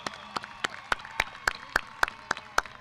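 Sparse, steady handclaps from a graduation audience honoring students, about ten distinct claps in a regular rhythm over a faint hum, fairly quiet and close.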